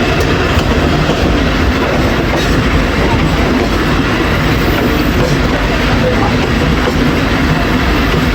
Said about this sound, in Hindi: हम अप्रोच बना रहे हैं जी 202 डाउन अटक पैसेंजर में बसाल जंक्शन पे